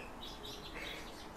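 European bee-eaters give soft, repeated chirping calls, faint and somewhat distant, over steady outdoor background noise.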